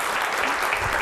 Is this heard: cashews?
no